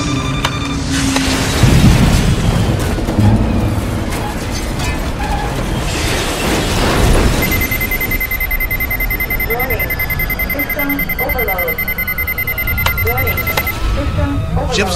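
A radio drama spaceship crash effect: a roaring rush of noise and rumble, then a sustained electronic alarm-like tone with beeping over a steady drone, loud and close.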